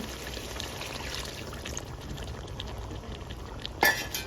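Water poured into a pan of marinated chicken for a Puja special chicken dish, a steady pouring and bubbling sound with a louder splash near the end, no talk.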